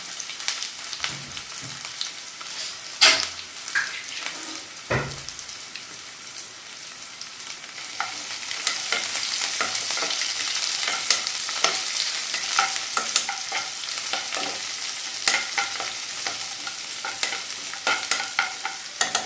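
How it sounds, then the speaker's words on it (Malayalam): Onions stirred in a hot pan, a steady crackling sizzle with scraping spoon strokes throughout, close and fairly loud with no talk. "നീരുള്ളി ഇട്ട് കൊടുക്കാം നന്നായിട്ടൊന്ന് ഇളക്കി കൊടുക്കാം"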